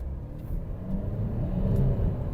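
A Chevrolet Optra car accelerates in first gear: a low, steady engine rumble builds gradually in loudness and pitch, close by and without speech.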